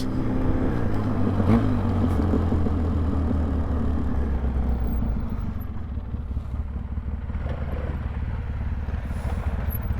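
A 2003 Polaris Sportsman 700 quad ATV engine runs loud and close while riding, revving steadily before easing off into engine braking with a lower, uneven drone.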